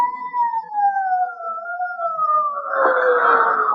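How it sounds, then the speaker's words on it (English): A police siren effect for a radio drama wails in a smooth two-tone glide that slowly drops in pitch, then a burst of broadband noise and clatter rises under it near the end; no voices. "Sirens. Can't you hear them?"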